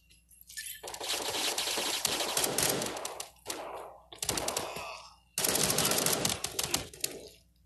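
Gunfire from an AK rifle in a mobile multiplayer shooter game comes in rapid automatic bursts, several clattering strings of shots separated by short pauses, clear and close with no talk.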